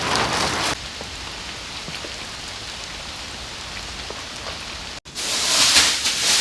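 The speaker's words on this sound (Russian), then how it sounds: "Потому что пошел дождь" Rain pours down on a rural homestead as a steady broadband hiss, loud at the start, softer through the middle and swelling again toward the end, with no talk.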